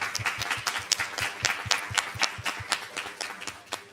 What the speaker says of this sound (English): I would just like another real hand applause for Carol